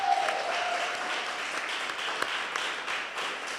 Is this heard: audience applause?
yes